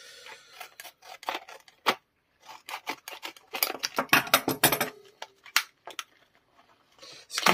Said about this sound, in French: Je vais quand même ouvrir ce petit paquet